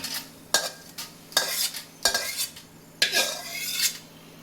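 Chutney ingredients for pepper tomato chutney are roasted one at a time in a pan, with a spoon striking and scraping the metal in about five sharp stirring strokes over a soft sizzle, close by and with no talking.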